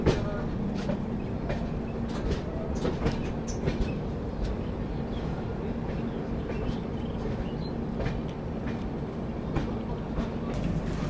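The Farakka Express, Delhi–Balurghat train 15744, rolls into Jafrabad with a loud continuous rumble and rhythmic wheel clatter over the rails, close and steady throughout.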